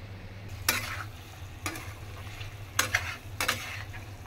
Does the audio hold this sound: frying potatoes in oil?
yes